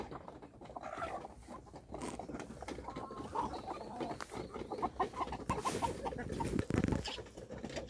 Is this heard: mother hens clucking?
yes